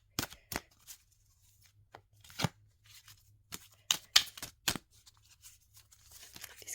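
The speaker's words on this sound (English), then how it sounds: "I'm going to shuffle again" Oracle cards are shuffled by hand in quick, crisp bursts of riffling and slapping, close and fairly quiet, with short pauses between clusters and no speech.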